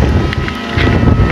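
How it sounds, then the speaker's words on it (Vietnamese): Strong storm wind during kite flying, a loud, continuous low roar and buffeting against the microphone that surges and dips slightly, with no voices. "Này gió này."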